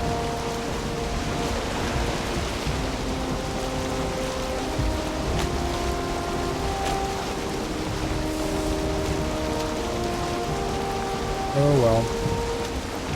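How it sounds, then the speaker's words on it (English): Steady rain pours down during a storm while sailing a boat in Valheim, a dense continuous hiss with a brief voice speaking near the end. "Of course, it's going to storm the whole way there."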